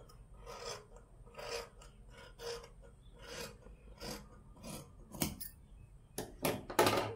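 Scissors cutting umbrella cloth by hand for a double-layer umbrella, a series of close, rasping snips, a dozen or so irregular cuts that grow louder and quicker toward the end, with no talk.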